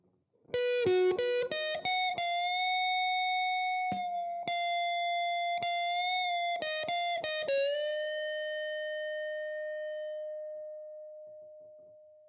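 A distorted electric guitar plays a song's solo: quick picked notes, then a bend into a long sustained note that rings out and slowly fades.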